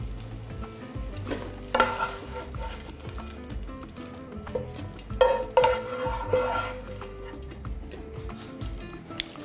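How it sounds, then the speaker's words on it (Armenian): Mushrooms sizzle and crackle in hot oil in a pan, a steady frying hiss with occasional louder clatters of stirring. "տապակում ենք քարաչիկը"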